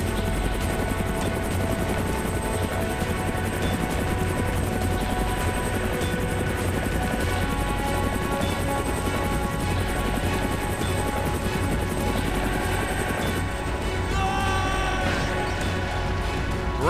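Steady, droning helicopter rotor and engine noise inside a video game, a continuous close whir that holds for about seventeen seconds with faint clattering underneath and almost no talk.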